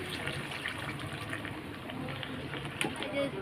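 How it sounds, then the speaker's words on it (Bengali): Water is poured into a pan of egg curry in a home kitchen, a soft steady liquid gush running the whole few seconds amid light kitchen noise. "এখন জল দিয়ে দেবো এই জল দিয়ে দিলাম"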